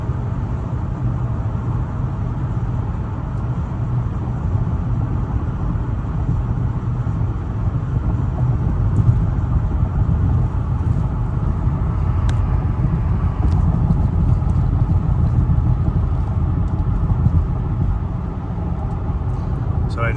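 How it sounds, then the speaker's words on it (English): A 2011 Lincoln MKZ mid-size sedan at freeway speed fills its cabin with a steady low road and wind hum, constant in level throughout, with someone talking over it. "The cabin on this car is actually remarkably quiet for a mid-size car."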